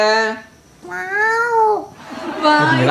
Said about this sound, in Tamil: இந்த பூனை நல்லா பேசுது